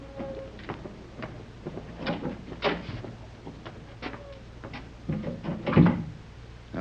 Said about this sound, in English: I'll go ahead and open the door.